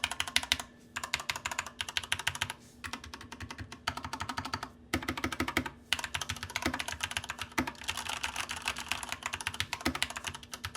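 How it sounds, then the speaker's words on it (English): Rapid, continuous clacking of a Corsair K65 Mini mechanical keyboard with HyperX Pudding keycaps typed on up close, directly on a bare desk with no mat, with a few brief pauses between bursts. "let's get a sound test with no desk mat on the desk"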